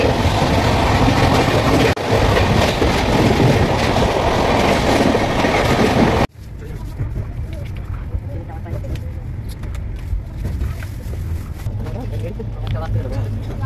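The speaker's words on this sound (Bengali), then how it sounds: "ট্রেনটা খুব স্পিডে চলছে" A passenger train running at high speed rumbles loudly with a rhythmic clickety-clack of wheels on rails. After an abrupt cut midway, the same running noise continues more softly and muffled, as if heard from inside the carriage.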